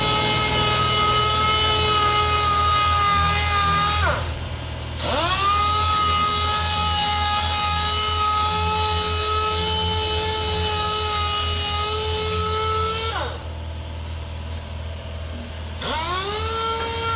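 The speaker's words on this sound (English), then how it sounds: "we're just sanding that down now" A power sander whines steadily on plastic filler over fiberglass, its motor tone winding down and spinning back up twice, loud and close with no talking.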